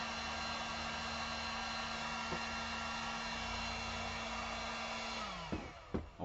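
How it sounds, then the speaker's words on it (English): A heat gun drying fresh paint on bare metal of an FJ40 blows a steady, even whooshing hiss with a faint whine, running alone for several seconds before shutting off and winding down amid a few light knocks. "Earl shot some of the paint using the heat gun."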